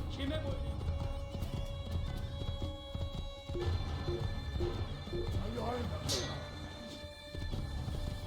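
Horse galloping in Assassin's Creed, with steady hoofbeats running through a dense game soundscape of crowd noise and music, plus a brief crash near the end; someone talks over it throughout.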